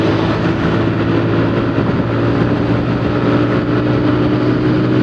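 A motorcycle engine roars steadily under hard acceleration during a road race between a Yamaha R15 and a TVS Apache 160, loud and close with strong wind rush throughout.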